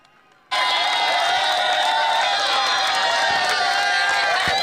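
Cricket fans cheer loudly and steadily at a local tournament match. A dense, continuous roar of crowd noise and shouting cuts in abruptly after a brief quiet start and holds at full volume.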